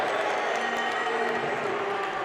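Crowd noise fills a high school basketball gym just after a made three-pointer in a Sunrise Christian versus Chicago Prep game, a steady dense roar of cheering that holds evenly throughout without any clear peaks.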